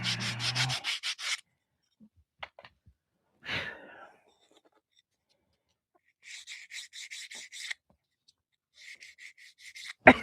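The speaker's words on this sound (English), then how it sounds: "you want to sand it down until you can see through it" A model aircraft part being hand sanded thin, heard as bursts of dry rhythmic rasping strokes separated by quiet pauses, close and fairly loud, with a brief breathy sound in between.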